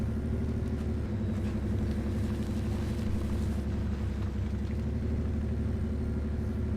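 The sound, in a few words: truck engine from the video game Spintires: Mudrunner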